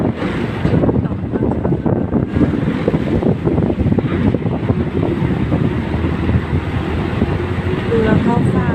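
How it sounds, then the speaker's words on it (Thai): A river ferry boat pulls in to the shore at Khlong San on the Chao Phraya, its engine rumbling steadily under wind buffeting the microphone and water sounds, with a voice speaking nearby. "เรือเข้าฝั่งนะคะ"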